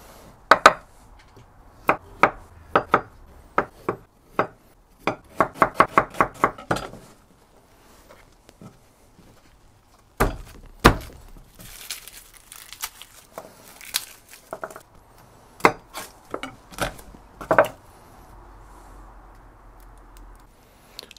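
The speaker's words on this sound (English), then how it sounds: "Got to peel the ginger first." Ginger being peeled and handled for a bulk batch of fermented hot sauce: sharp irregular clicks and scrapes of a utensil with dense rapid clusters, then a stretch of quieter crinkling and rustling, close and otherwise silent.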